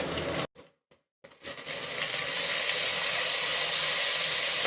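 Ginger and garlic paste frying in a pan with onions for a rohu fish curry, a steady close hiss and sizzle that fills the background after a few brief clatters, continuing evenly without talk.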